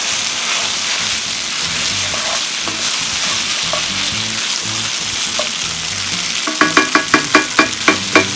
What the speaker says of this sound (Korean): 그리고 쌀을 넣습니다. 전체적으로 살짝 볶아주고